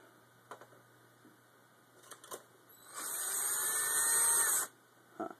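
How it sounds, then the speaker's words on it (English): A power drill drives screws into an Xbox console: faint clicks and handling at first, then one steady whirring run of about two seconds that stops sharply, followed by a small click. "So using a drill saves me a lot of pain in my hand and a lot of effort."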